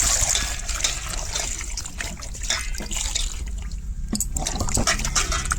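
Water is poured and swirled while puffed rice is rinsed in a bowl for a crispy radish bhujia, a steady close trickling and sloshing that runs throughout with small splashes.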